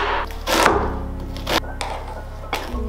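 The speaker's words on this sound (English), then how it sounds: "Begin by peeling and roughly chopping your onion" A few knife strikes chopping an onion on a cutting board, sharp and close, spaced irregularly with a louder thunk near the start.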